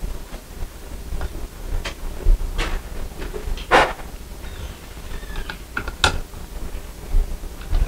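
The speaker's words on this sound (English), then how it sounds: "we screw these screws down until they're tight" Screws driven tight by hand to mount a ceiling light fixture bracket: irregular clicks and scraping creaks of the screwdriver working, close and fairly quiet against low room hum.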